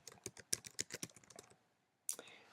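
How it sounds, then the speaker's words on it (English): Quick, close bursts of computer keyboard typing fill the first second and a half, then a brief pause before a few more keystrokes resume, with no voices. "I'm just going to type verifies birth information"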